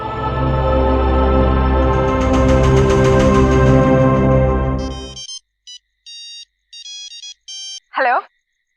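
A phone rings with an incoming call: a loud, full ringtone melody plays for about five seconds, then stops and gives way to a few short, clean electronic beeps, with a brief voice at the end.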